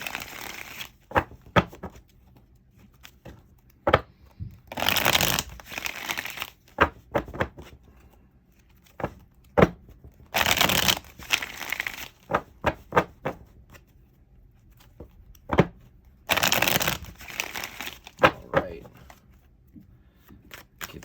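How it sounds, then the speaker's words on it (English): Repeated bursts of tarot cards being shuffled close up, riffling in several separate rounds with quieter pauses and light handling clicks between them. "A little bit more of a shuffle"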